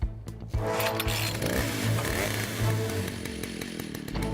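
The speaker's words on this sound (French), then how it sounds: "Je vais mettre la tronçonneuse en marche." A cartoon chainsaw engine roars to life after a firm pull on the starter cord and runs steadily at a loud, close, buzzing idle with slight revving.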